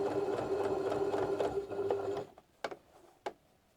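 A sewing machine stitching a Drunkard's Path quilt block, running in a steady close whirring rattle for about two seconds, then stopping, followed by a couple of sharp clicks.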